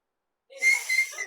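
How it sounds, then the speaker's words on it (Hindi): A student's short, breathy whistle in a classroom whistling contest is blown close and loud for under a second, rough and airy rather than a clean tone. "अब यहाँ पर सीटी बजाने कंपटीशन शुरू कर रहे हैं विद्यार्थियों के साथ"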